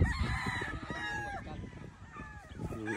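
Gamefowl rooster, a two-way cross bred from 5K and Golden Boy lines, crows loudly and close with a long drawn call. Other fowl cluck around it on a farm and a voice is heard faintly.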